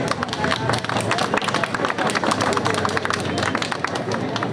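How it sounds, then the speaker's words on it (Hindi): A crowd at a student protest claps steadily and loudly, a dense patter of many hands mixed with a low background murmur. "एक बार जोरदार तालियां इसको"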